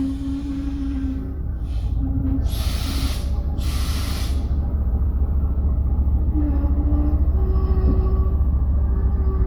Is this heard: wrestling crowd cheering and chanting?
no